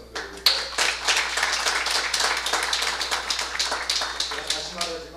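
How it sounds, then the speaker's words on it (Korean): A church congregation claps together after a call to applaud God during a Korean graduation worship service, a dense, steady patter of many hands that stays loud for several seconds. "우리 하나님께 박수 한번 드리겠습니다."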